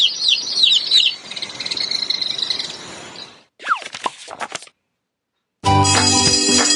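Birds chirp and tweet in a lively burst of high calls, fading out before a short pause and a second scatter of quick notes, then silence followed by a brighter, denser stretch of sound.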